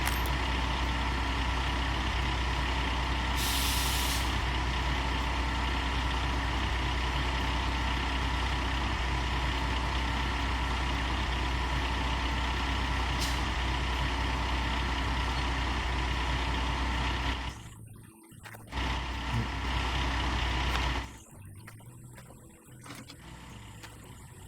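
A heavy truck engine idles in the Gold Rush mining game, a steady low drone that runs unbroken for about seventeen seconds before short cuts and a brief hiss near the end. No one speaks.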